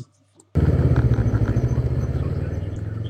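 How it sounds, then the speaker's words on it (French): Honda CMX 500 Rebel custom twin-cylinder motorcycle fires up after a brief quiet moment, then settles into a close, loud, even low thumping idle with a regular pulsing rhythm. "on peut simplement aimer le petit poum poum de ce bicylindre custom"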